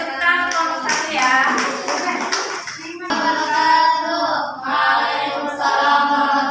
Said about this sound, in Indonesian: Kita beri tepuk tangan untuk kelompok 1 ya.